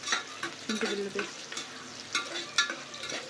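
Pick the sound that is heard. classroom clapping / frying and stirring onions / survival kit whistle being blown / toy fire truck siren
frying and stirring onions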